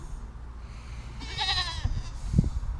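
A goat on a farm in winter lets out a single wavering bleat in the middle, close and clear, followed by a couple of soft thumps and rustles against a quiet low rumble.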